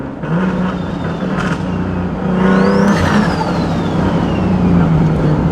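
A modified car with a T51R turbo revs hard, its engine climbing and holding loud, with a sharp rising turbo spool whistle sweeping up and then sliding back down.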